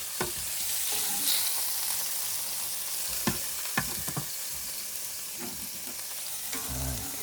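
Steak sizzles steadily in a frying pan, a close, dense hiss of spitting fat, broken by a few sharp clicks and clatters from utensils and the pan.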